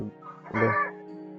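A chicken in a survival video game world lets out a single loud squawking cluck, rising sharply midway and then trailing off into a softer sustained tone, heard alone without speech.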